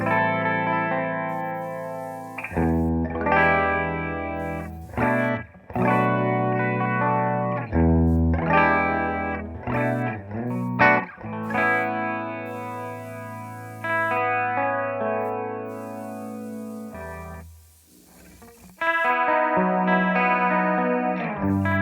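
A 1978 Ibanez Iceman electric guitar runs through a 1976 Roland DC-50 digital chorus, giving shimmering, lush chords and phrases in repeated bursts with short gaps between them, played up close with no talk.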